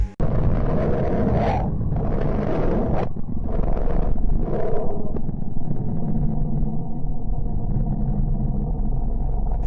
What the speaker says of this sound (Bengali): চলুন এবার শুনি বুধ গ্রহের মধ্য থেকে আসা শব্দ যা এমন শোনায়